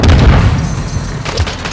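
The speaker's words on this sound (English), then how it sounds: "Friendly stealth bomber entering the AO." Deep, loud booming explosions from a stealth bomber airstrike in Modern Warfare II roll in close, a heavy rumbling blast that fades and then a second thud follows.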